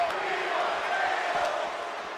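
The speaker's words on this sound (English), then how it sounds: "The crowd's chanting for tables." A wrestling video game arena crowd chants for tables, a broad, steady roar of many voices that holds evenly throughout at a moderate level.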